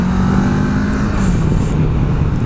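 Kawasaki Versys 650 motorcycle ridden hard while overtaking, its engine note loud and close under heavy wind rush, pitch holding then sliding slightly downward as revs ease.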